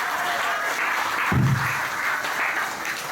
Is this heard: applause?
yes